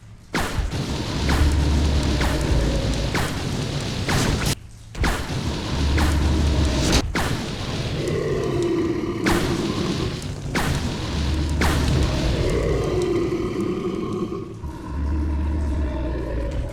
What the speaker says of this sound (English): now let's try napalm grenades